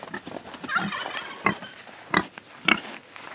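Pigs give a series of short grunts and squeals while being loaded up a messy ramp on a farm, with several separate bursts spread irregularly across a few seconds.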